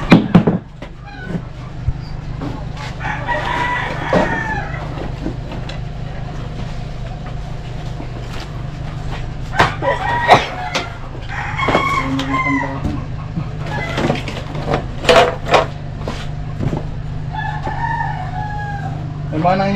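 Chickens and a rooster on a rural property, with several crowing calls and scattered clucks repeating at intervals over a steady low hum, some near and loud, others fainter.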